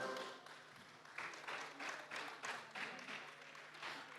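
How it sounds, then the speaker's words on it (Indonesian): Audience clapping at a stock exchange IPO listing ceremony for PT Nusantara Sawit Sejahtera Tbk in Indonesia, a fairly faint, brief burst of applause with uneven pulses of claps, some indistinct voices mixed in. "Mari kita berikan tepuk tangan yang meriah."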